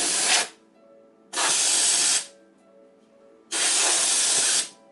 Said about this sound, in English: take our canned air and blow this thing out